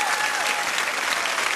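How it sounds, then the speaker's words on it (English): Dense studio audience applause on a comedy television show, a full steady roar of many hands clapping close and loud throughout. "Give her a big round of applause."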